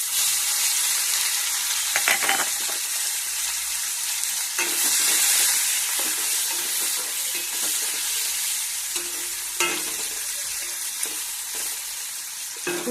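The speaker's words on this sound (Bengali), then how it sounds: "প্রথমে উচ্ছেগুলো একটু ভেজে নেব।" Thick-cut bitter gourd pieces fry in hot oil, a loud, steady close sizzle with occasional scraping knocks from stirring.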